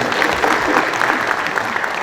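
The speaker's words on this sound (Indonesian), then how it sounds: "Tepuk tangan dong ya." Steady, dense applause from an audience at the West Java Investment Summit 2025, filling the whole moment with continuous clapping and no pauses.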